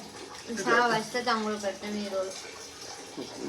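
A thin stream of water runs from a household tap, a soft continuous trickle sitting beneath a person talking close by throughout.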